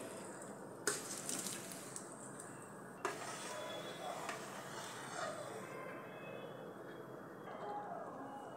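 Boiled potatoes drop into a simmering dhaba-style dum aloo curry in a pan, giving faint clanks and plops followed by soft bubbling and stirring, with a voice talking over the quiet kitchen sounds.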